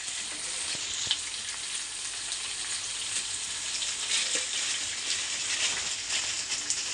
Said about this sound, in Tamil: டீ, இஞ்சி, ஏலக்காய் நல்லா கொதிக்கணும்